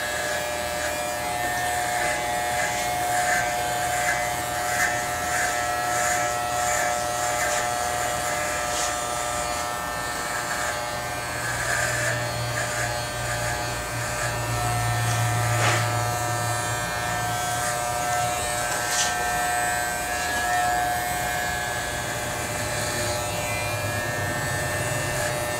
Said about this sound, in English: I can shave this a little bit closer right at the bottom now with my trimmer